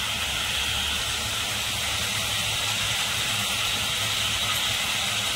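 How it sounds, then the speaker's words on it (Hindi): Ginger garlic paste sizzling in a hot pan while cooking chicken korma, a steady frying hiss and crackle that holds loud and even throughout with no talk. "अदरक लहसुन का पेस्ट डालकर हमने इसे कला लिया है"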